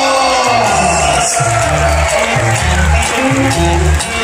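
Audience at a comedy show cheering and clapping for the kids, a loud crowd roar with whoops and shouts over a pulsing low musical beat, continuous throughout.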